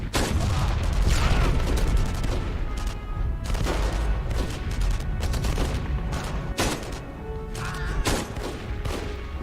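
Gunfire in the World War II shooter Enemy Front, a run of loud, sharp shots that repeat in irregular bursts over a rumbling low backdrop, with no speech heard.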